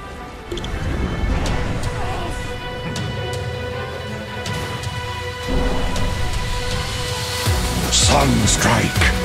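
Invoker's Sunstrike spell in Dota 2 lands with a sudden bright, crackling burst near the end, rising out of a dense, steady bed of battle effects and ambient game noise.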